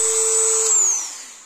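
A small angle grinder whines loudly as it cuts a stainless steel chimney rosette, a sustained high tone that dips in pitch and fades as the disc slows.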